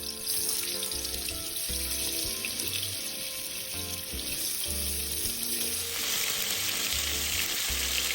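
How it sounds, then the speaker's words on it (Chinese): Dried tofu pieces pan-fry in hot oil over a medium flame, giving a steady, close crackling sizzle that lasts throughout. Faint background music plays underneath. "油热后，再将豆干放入油煎。"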